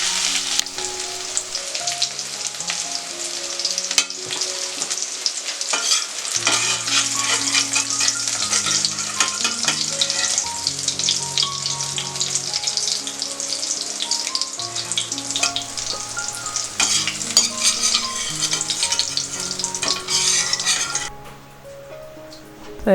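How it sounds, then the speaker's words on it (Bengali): Potatoes frying in hot oil for a vegetarian chhana curry, a loud continuous sizzle with stirring clinks, while background music plays underneath; the frying drops away near the end. "আলুটা একটু ভেজে তুলে নেব"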